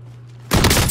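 Rifle fire in Call of Duty: Warzone: a quiet half-second gives way to a sudden, loud, dense burst of rapid shots that runs to the end.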